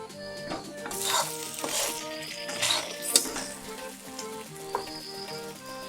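Spices frying and being stirred in a cooking pan for an Assamese eel fish curry, a steady sizzle with intermittent scraping strokes of a spoon, close and clear with little talk.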